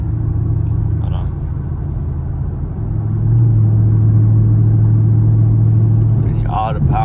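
Camaro SS V8 pulling hard at full throttle at night, a deep steady engine rumble that swells louder and holds a sustained drone as it accelerates, with a voice talking over it.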